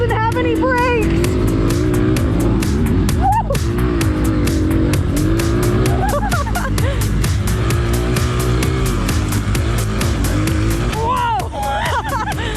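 A Honda CRF150F dirt bike revs at full throttle during a cross-training enduro race lap, its loud, continuous engine roar rising and falling with the gear changes and pierced by sharp rattling clicks throughout, with occasional shouts over it.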